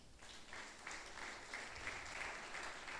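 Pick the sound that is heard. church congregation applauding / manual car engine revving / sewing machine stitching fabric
church congregation applauding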